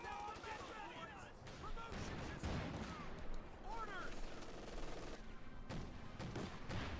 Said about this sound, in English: Rifleman being shot to bits.